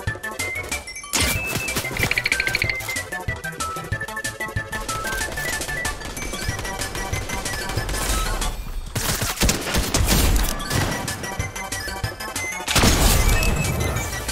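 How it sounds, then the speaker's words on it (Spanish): Rapid bursts of gunfire and crashing impacts in a Fortnite battle, loud and dense, with repeated volleys and a few heavy booms running through the whole stretch. "Oh, oh, oh, disparos."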